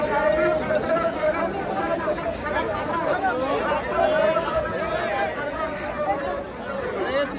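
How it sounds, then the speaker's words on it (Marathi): Dense crowd chatter fills an open-air bullock cart race gathering, a steady babble of many overlapping voices at moderate level with no single speaker standing out. "त्याच्यासाठी गर्दी आहे."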